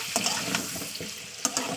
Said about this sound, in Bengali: আলুটাকে তেলের সঙ্গে ভাজা করে নিতে হবে